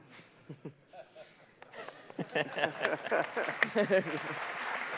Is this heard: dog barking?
no